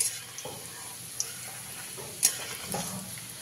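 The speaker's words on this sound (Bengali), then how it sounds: "রসুন কুচিটাকে হালকা ভাজা ভাজা করে নিতে হবে" Chopped garlic fries lightly in a pan for a water spinach curry, giving a soft, low sizzle broken by a few stirring clinks and scrapes, with no talking.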